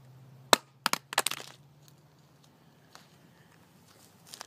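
A Nuu phone hitting the ground in a side drop test, a few sharp clattering impacts in quick succession near the start, then faint scuffs and a last small clack.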